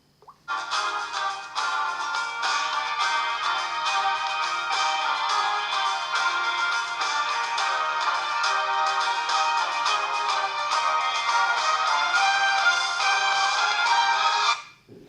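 A bright electronic ringtone melody plays continuously through a Samsung Galaxy Grand 2 phone's small loudspeaker for about fifteen seconds, loud and alone.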